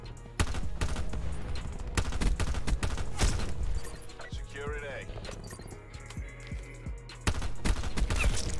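M16 rifle fire in Call of Duty Black Ops 4, loud rapid bursts of shots in several volleys with short pauses, someone talking over the shooting.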